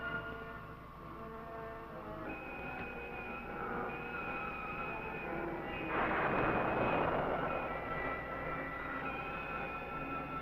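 A spaceship engine's thrust roars as a steady mechanical drone that builds gradually and surges louder in a rough burst toward the end, with no voices.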